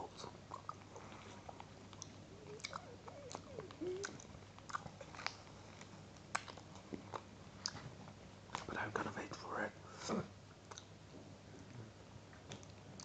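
A Lithuanian ice cream bar being eaten up close in a quiet room, with soft scattered bites and chewing clicks and faint whispering in between.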